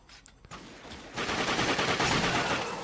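Gunfire in The Darkness video game: a few sharp single shots, then a sustained burst of rapid automatic fire that grows loud and continues to the end.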